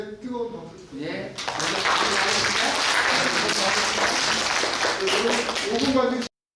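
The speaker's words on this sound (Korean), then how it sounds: "오늘 최영석 교수님께 뜨거운 박수 부탁드립니다" A lecture audience breaks into sustained applause for a professor, a dense wash of many hands clapping that swells after a brief spoken lead-in and holds steady, with voices faintly underneath, before cutting off.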